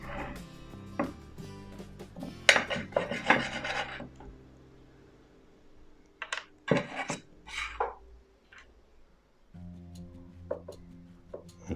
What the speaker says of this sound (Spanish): Vamos a cortar el queso.